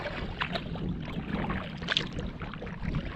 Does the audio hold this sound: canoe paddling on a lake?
yes